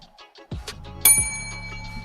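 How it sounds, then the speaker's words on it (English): A bicycle bell is rung twice in quick succession, each bright ding ringing out clearly and lingering, during a live improv comedy match held over Zoom. "Anytime Pat thinks it's worthy of a bell, they will ring one"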